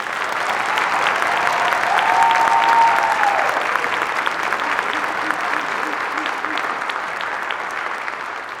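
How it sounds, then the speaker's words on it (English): Sustained audience applause after a school spring band concert, steady dense clapping from a large crowd throughout, with faint murmuring beneath. "So let's give another round of applause for Grace."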